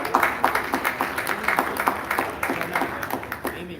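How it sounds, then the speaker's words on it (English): Convention crowd applauding the former national chair of a political party, moderately dense clapping from a room audience that keeps a steady level throughout with no speech over it. "let's give a round of applause for Steve Dasbach"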